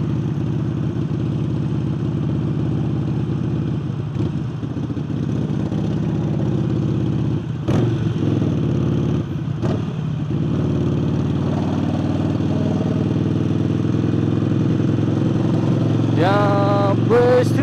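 A Harley-Davidson 48 motorcycle fitted with a new air intake idles with a deep, steady low rumble, broken by a few sharp clicks and knocks, while a voice sounds faintly near the end.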